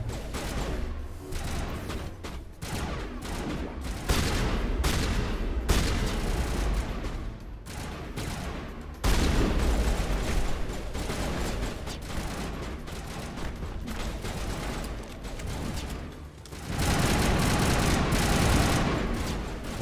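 Assault rifle fire from Mass Effect crackles in repeated dense bursts with mechanical clicks between them, loud and continuous with short pauses.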